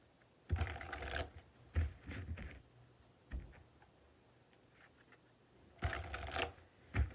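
Oracle card deck being shuffled by hand, quiet crisp bursts of card riffling in several short clusters separated by near silence.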